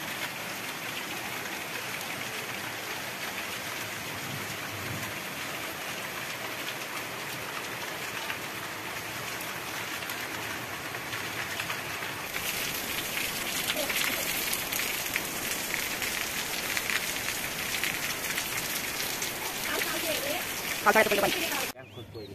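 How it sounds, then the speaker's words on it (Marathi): Heavy rain pours down outdoors as a steady, dense hiss of drops on surfaces. It grows louder and thicker partway through, with a brief clatter near the end. "पाऊस येत आहे"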